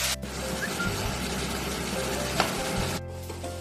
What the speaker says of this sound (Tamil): அடுத்ததான் நம்ம ரெடி பண்ணி வச்சிருக்க உருளைக்கிழங்க சேர்த்து நல்லா ஃப்ரை பண்ணி எடுக்க போறோம்